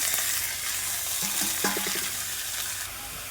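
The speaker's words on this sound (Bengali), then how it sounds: "এবার আমি ফুলকপিটা দিয়ে আরও 5 মিনিটের মতন কষিয়ে নেব" Cauliflower and potatoes sautéing in a hot pan with steady frying sizzle and stirring scrapes, close and moderately loud, with no voices.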